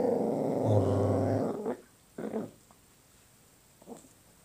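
A miniature pinscher growls over an apple, a low rumbling snarl that holds for over a second close by, then breaks into a few shorter guttural grumbles that fade.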